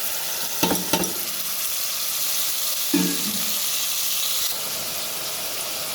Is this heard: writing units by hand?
no